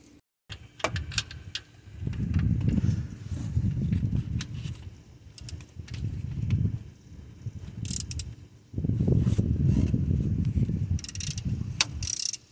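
A socket wrench strains to break alternator bolts free on a Chevrolet Camaro with an LS engine. Close, gritty mechanical bursts come in two long stretches with brief clicks and clanks between them.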